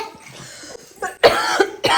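A child's coughs at home, a soft rough cough followed by two louder, sharper hacking bursts near the end, close to the listener.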